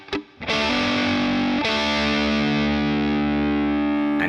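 A distorted electric guitar plays a slowed-down phrase from a solo: a quick pick attack, a held bent note, then a second sustained note ringing out, loud and alone.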